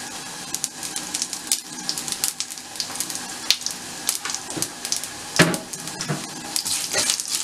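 Cumin seeds and bay leaves fry in hot oil for a potato curry, giving a steady faint sizzle broken by frequent sharp crackles and pops, with occasional clinks of a utensil against the pan.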